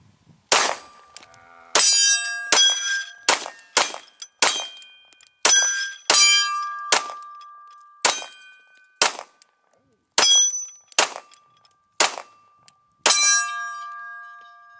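FN 509 Edge pistol fired at a target 10 yards away, about a dozen sharp shots heard up close, each followed by a ringing metallic clang, spaced roughly a second apart with short pauses in between.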